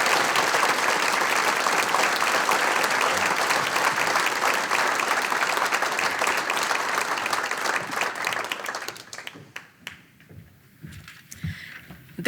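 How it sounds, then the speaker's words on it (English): An awards-program audience applauds a scholarship recipient, a dense, steady round of clapping that fills most of the clip before thinning out and fading into scattered claps at the end. "please give her a round of applause."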